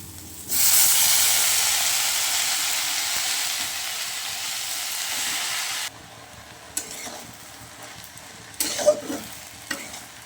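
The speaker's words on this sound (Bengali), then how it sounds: "পেঁয়াজটা আমার ভাজা ভাজা হয়ে গেছে, তো এইখানে আমি দিয়ে দেবো শাকগুলো" Water spinach greens hit a pan of browned onion with salt and turmeric, giving a loud, steady sizzle for several seconds that then drops to a softer frying hiss broken by a few clinking stirs.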